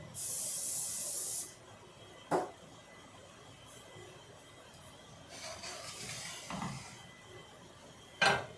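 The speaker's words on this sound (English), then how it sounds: "Gotta spritz my pan." A short hissing burst of cooking spray onto a baking pan for cornbread, followed by quiet handling of the pan with a few light clinks and taps.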